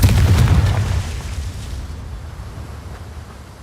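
A Confringo spell explosion in Hogwarts Legacy: a loud, deep boom that opens the moment and then fades over a few seconds into a low rumbling tail, with no talk.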